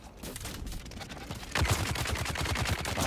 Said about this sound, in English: You just stop shooting at me.